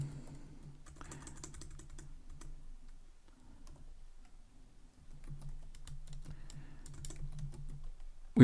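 Quiet, rapid computer-keyboard typing while entering code, clicking keystrokes in two bursts separated by a brief near-silent pause, close and soft, with no speech.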